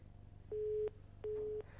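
A telephone busy tone after a cut-off line: two long, evenly spaced steady beeps, each under a second, separated by a short gap over a low hum.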